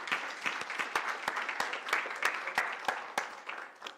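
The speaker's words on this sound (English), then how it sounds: "give yourselves also a round of applause" Applause from delegates at a South African policy dialogue event, a thin, sparse patter of individual claps with distinct sharp hits, steady at moderate level for several seconds.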